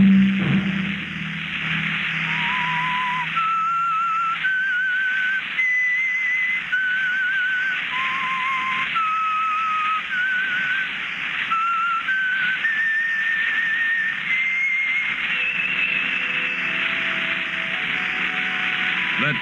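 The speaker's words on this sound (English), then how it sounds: "Let that whistle be your signal for the Signal Oil program, The Whistler" A lone whistler carries the theme of The Whistler, a Signal Oil-sponsored radio mystery program, as a steady melody of rising and falling notes over a faint hiss of old broadcast static.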